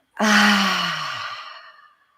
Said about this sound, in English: Take a big, deep cleansing breath